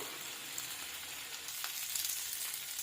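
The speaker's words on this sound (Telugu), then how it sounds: "ఇలా కాసేపు నూనెలో ఉంచుకుందామండి నూనెలో కొద్దిసేపు మగ్గని చేసుకుందాం" Masala pasta ingredients softening in hot oil, producing a continuous close sizzle with small crackles throughout, steady and moderately quiet, with no voices.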